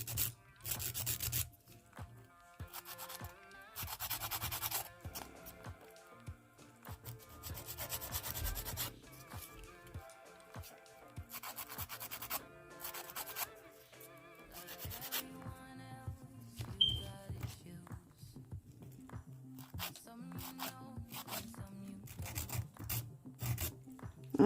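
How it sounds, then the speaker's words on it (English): Nail file rasping along the edges of polygel stiletto nails, in repeated bursts of scratchy back-and-forth strokes with short pauses between passes, close and fairly loud, with no talking. "I'm just going to file it."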